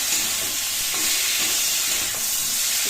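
Potatoes with black cumin seeds fry in hot oil, a dense, even sizzle that hisses continuously with a couple of faint stirring scrapes underneath.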